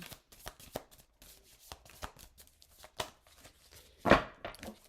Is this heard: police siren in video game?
no